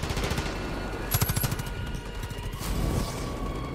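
Sustained rapid automatic gunfire in Far Cry 5, close and loud, with a fast rattling rhythm that briefly eases and then picks up again; no talking.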